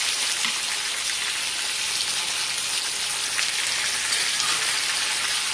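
Chicken thighs sizzle and fry in a skillet over medium-high heat, a steady, even hiss like light rain that holds at one level throughout, close by and with no voices.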